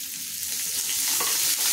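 Finely chopped onion hits a hot pan with bay leaves and spices and fries with a loud, close, continuous sizzle that swells slightly as it is stirred.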